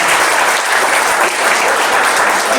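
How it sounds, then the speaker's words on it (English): A crowd claps in sustained, loud applause, dense and even from start to finish. "How about a round of applause for that?"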